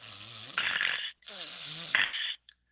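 A narrator's voice imitates exaggerated, fake snoring in a storytelling scene, two long drawn-out snore breaths with a snorting, wheezy rasp, close and fairly loud, separated by a brief pause.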